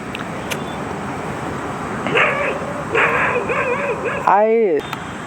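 A dog barks a few times at a distance at night, sharp yelping calls breaking over steady outdoor background noise.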